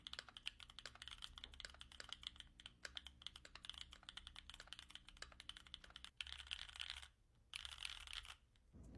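A Keychron Q2 creamy mechanical keyboard is typed on up close, producing rapid, dense, rounded keystroke clacks in a continuous run with brief pauses near the end.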